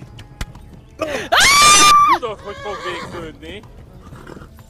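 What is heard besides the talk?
horse galloping in video game Kingdom Come Deliverance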